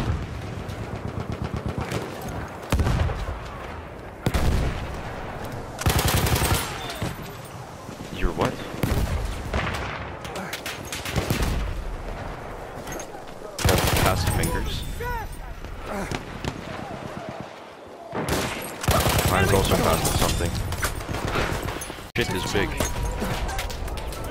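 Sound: machine gun fire in Battlefield 1 video game

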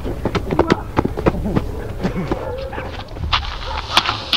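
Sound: dog barking and whimpering

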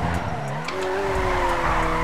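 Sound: car driving with tire squeal in GTA RP video game

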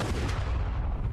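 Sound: gunshot in The Walking Dead Season 2 video game

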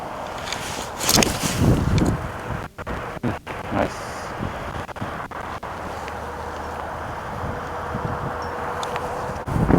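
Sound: strong wind blowing on golf course

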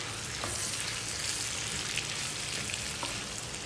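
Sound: meat frying in a pan for Ilocano pinapaitan

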